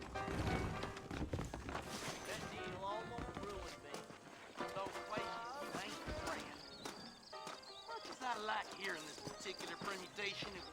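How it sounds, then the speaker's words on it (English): Horse hooves clip-clop in the Red Dead Redemption video game, set in New Austin. The hoofbeats sit under dialogue and a busy musical score throughout. "I got the horses saddled up and ready out front."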